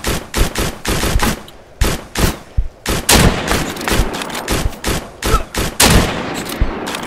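Gunfire in the video game Deadside: loud, rapid bursts of shots crack one after another with barely a pause, dense and close throughout.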